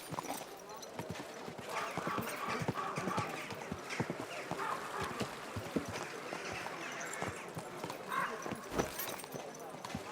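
A horse clip-clops along at a steady walking pace in Kingdom Come: Deliverance II, its hoofbeats dense and continuous over ambient outdoor game sound, with voices talking in between.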